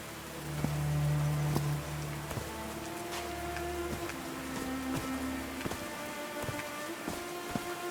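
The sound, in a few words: rain falling, from a video game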